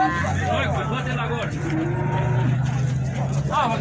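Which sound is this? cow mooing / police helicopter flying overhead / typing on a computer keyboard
cow mooing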